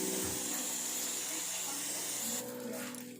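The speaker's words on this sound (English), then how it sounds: "You want it on spray mode, Rocky?" A garden hose on spray mode hisses steadily as water sprays over dogs on a hot day, loud and continuous before easing off near the end.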